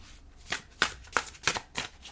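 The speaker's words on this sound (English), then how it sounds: "I'm gonna shuffle it 5 times here." A deck of tarot cards is shuffled in five quick riffles, each a short crisp papery burst spaced evenly about a third of a second apart, close and clear with no talking.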